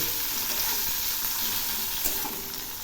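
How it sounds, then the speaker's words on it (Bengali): Chopped onions fry lightly in hot oil in a home kitchen alongside whole cardamom and clove, a steady close sizzle with a brief stir near the end. "এই পেঁয়াজগুলো একটু হালকা করে ভেজে নেব।"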